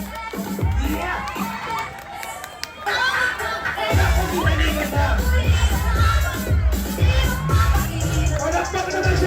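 Children at a birthday party clap and cheer as a loud, dense crowd roar with shouts and babble that swells after a brief dip and stays busy to the end.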